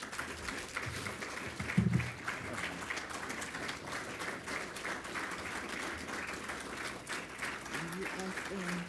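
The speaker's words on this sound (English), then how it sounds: "Please, everyone, give my mom a round of applause." At an Air Force retirement ceremony, an audience claps in sustained, even applause that fills the room at moderate distance, with voices murmuring underneath.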